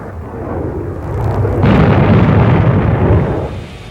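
Bombs dropped by Navy strike aircraft explode on target: a deep rumbling blast swells midway into a loud, sustained roar that lingers for a couple of seconds before slowly fading.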